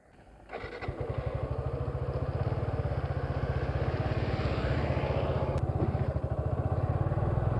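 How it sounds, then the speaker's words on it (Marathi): A motorcycle engine idles with a steady rapid thump, then revs and pulls away from neutral on a road ride from Ratnagiri toward Kolhapur, its loud throbbing growl holding close throughout. "आपल्या बाईक राईडला सुरुवात झालेली आहे"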